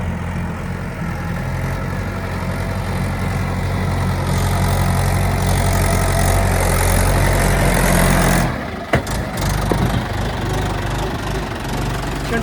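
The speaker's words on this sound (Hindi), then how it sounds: "इस कुंडी में हम गाल लेकर आ रहे हैं हमारा महिंद्रा ट्रैक्टर से" A Mahindra tractor engine runs steadily at close range with a low, throbbing drone while hauling mud on a farm, then cuts briefly before rumbling on.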